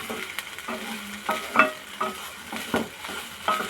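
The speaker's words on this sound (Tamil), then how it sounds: "பன்னீரையும் சேர்த்து நல்லா மிக்ஸ் பண்ணிக்கிறேன்." A spatula scrapes and clatters through paneer and onion momo filling in a hot pan, with irregular stirring knocks over a continuous sizzle, close and fairly loud.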